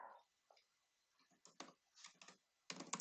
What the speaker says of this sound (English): I'm going to go ahead and type in the description.